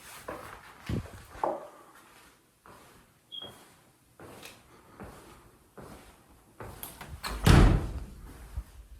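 A door slams shut inside an abandoned factory. Several thuds and bangs echo across the space, and the loudest hit comes near the end.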